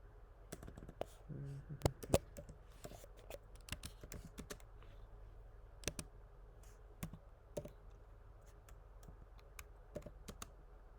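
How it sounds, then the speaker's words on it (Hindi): Fingers typing notes on a computer keyboard, giving irregular light clicks and taps in quick bursts across the whole stretch, close to the microphone and fairly quiet, with no talking over it. "थिंक नोट्स के अंदर मैं कॉन्फ्रेंस लिखता हूँ कि क्या क्या हुआ है."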